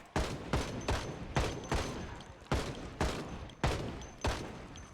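Rifle fire in the zombie survival game Project Zomboid: eight sharp, loud shots spaced roughly half a second apart, each with a short decaying tail, no talk.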